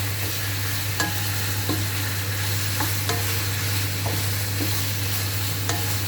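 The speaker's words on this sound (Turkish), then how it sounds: "Artık yavaşça karıştırıyorum. Ters yüz edeceğim." Chicken frying in a pan for a börek filling, heard as a steady, dense sizzle with a constant low hum and regular soft scrapes of slow stirring every second or so.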